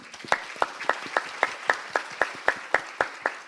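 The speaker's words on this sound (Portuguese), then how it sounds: "Uma salva de palmas." An audience at a talk on empathetic leadership claps in rhythmic unison, about a dozen crisp, evenly spaced claps at a brisk steady beat with no voices over them.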